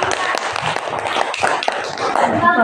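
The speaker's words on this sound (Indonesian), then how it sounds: "berikan tepuk tangan untuk kelompok" Steady applause and clapping from a group fills the room, mixed with chatter and voices throughout.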